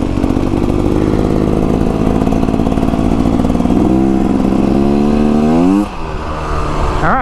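The engine of a 2024 Beta Xtrainer dirt bike runs loud and close on a ride, droning steadily before its pitch climbs as it revs up near the end.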